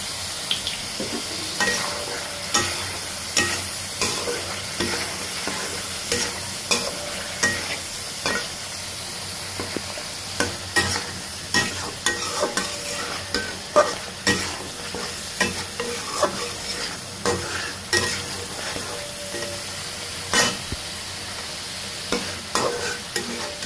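Egg curry simmering down in a pan, stirred with regular spoon scrapes and knocks over a steady sizzle, close and fairly loud with no voices.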